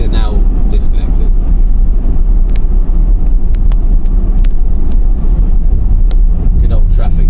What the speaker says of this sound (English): Good old traffic jam, we love it.